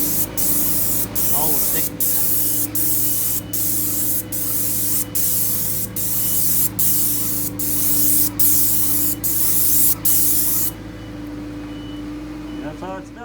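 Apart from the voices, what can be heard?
sprayer spraying stain onto log pavilion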